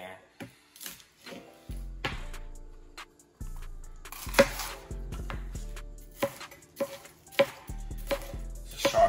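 Sharp kitchen knife chopping bell pepper on a cutting board while making shrimp and black bean quesadillas, a quick series of close, crisp knocks and slices at an uneven pace, with someone talking between the cuts.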